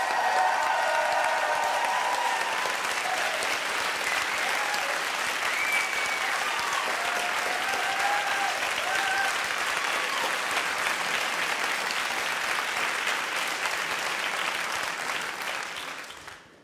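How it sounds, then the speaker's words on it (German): Sustained audience applause at a poetry slam show, steady dense clapping from a large crowd filling the hall for about sixteen seconds before fading at the end. "dann applaudiert bitte jetzt für Johannes Flöhr!"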